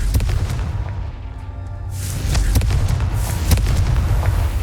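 Fiery spell explosions in the fantasy video game Hogwarts Legacy: deep rumbling booms with sharp cracking bursts, loud and continuous, with a heavier second blast hitting about halfway through.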